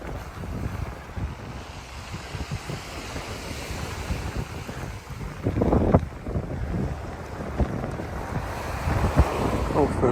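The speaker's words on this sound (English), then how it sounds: "listening to that lovely sound of the sea." Waves roll onto the Kent coast near Broadstairs, a steady seaside wash with surges of surf breaking nearer at times, mixed with gusty wind rumbling on the microphone.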